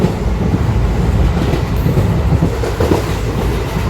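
Loud, continuous rumble of a train rolling along rails from Gondal to Somnath, heard from inside a general coach with steady clattering and no voices.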